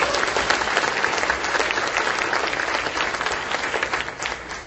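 An awards-event audience applauds steadily, a dense wash of many hands clapping at a fairly distant, even level throughout, easing slightly toward the end, with no speech over it.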